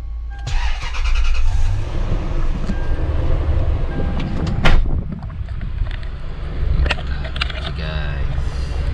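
A car engine idling and warming up before a wash, a low steady rumble close by with clicks and clatter over it and a voice talking at times.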